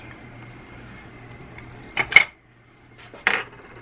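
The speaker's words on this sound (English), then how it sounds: "I'm just scoop some out into another bowl so we don't cross-contaminate." Food scooped from one bowl into another in a home kitchen, heard as two short bursts of utensil scraping and clinking against a bowl over a faint low hum, with no talking.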